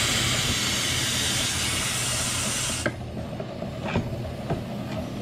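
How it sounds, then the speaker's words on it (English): An antique air compressor blows air through a Civil War Burnside carbine barrel, giving a loud steady hiss that cuts off suddenly, followed by a few faint taps and clicks. "Takes a minute for my little antique compressor to do its deal."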